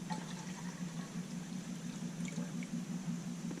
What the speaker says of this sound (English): Now I'm going to take the last of my cold water and make some tang.